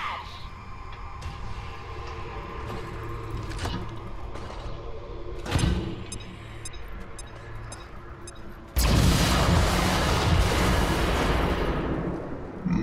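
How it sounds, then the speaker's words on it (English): Explosions in the XCOM 2 video game: a sharp blast midway, then a loud, sustained roaring detonation rumble that continues to the end. "Many explosions."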